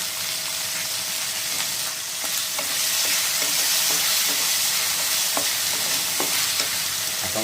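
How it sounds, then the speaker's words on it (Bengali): Tomatoes hitting ginger-garlic paste frying in a pan for a Bengali mustard rui fish curry, a steady close sizzle and hiss with scattered small stirring clicks throughout, no voices. "এখন এর মধ্যে অ্যাড করে দেবো আমি টমেটো"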